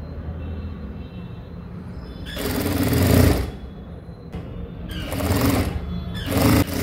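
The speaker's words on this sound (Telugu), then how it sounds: "ఇప్పుడు ఈ నెక్ ఉంది కదా, ఈ నెక్ సైడ్స్ స్టిచ్ చేసేసుకున్నాం" A sewing machine stitches the sides of a dress neck in bursts: a steady hum, then three loud whirring runs of stitching, the last short, with no talk over them.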